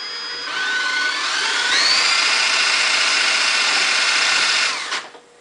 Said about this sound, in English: I want to bring out the drill and actually get on it here.